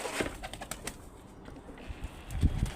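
Pigeons flapping their wings as a second group is released from a home loft to fly, with several short bursts of wingbeats and a few soft coos, fairly close, with no talk.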